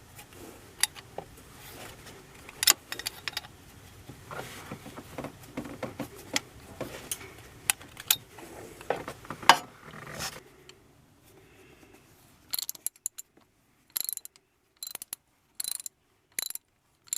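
A socket ratchet clicks rapidly while undoing copper exhaust manifold nuts on a Mercedes 410D, a dense close run of ratcheting in the first ten seconds followed by short separate bursts of clicks with quiet gaps between.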